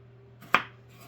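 A single sharp knife chop through hot peppers on a cutting board for ginger hot sauce, one crisp close thunk in an otherwise quiet moment.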